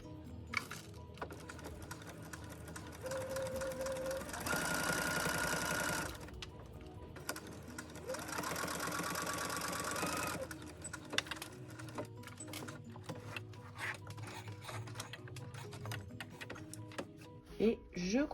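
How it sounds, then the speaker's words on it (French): Domestic sewing machine stitching straight quilting lines through a padded quilt sandwich, with two sustained bursts of steady whirring motor noise separated by pauses, while someone talks quietly over it. "J'abaisse mon pied. Et je commence à piquer."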